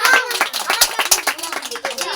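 Applause for team captains at an outdoor kabaddi match in Gaighata, brisk clapping from a group of people over which a voice talks.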